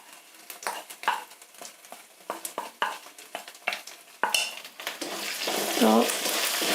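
Ginger paste, cumin paste, ground coriander and chilli powder fry in a pan for chicken khichuri, with a run of close scraping spatula strokes over a low sizzle that swells louder toward the end.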